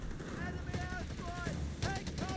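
Strafing run from an aircraft in Company of Heroes 3, a Panzerarmee versus US Forces match, sounds as dense continuous gunfire with rapid bursts under a busy battle mix, with a louder burst near the end.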